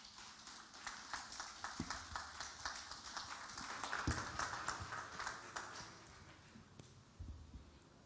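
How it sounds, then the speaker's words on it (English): An audience at a real estate roundtable event in Lekki applauds after a speech, with scattered, fairly distant claps forming a light, uneven patter that swells slightly mid-way and thins toward the end. "Another round of applause."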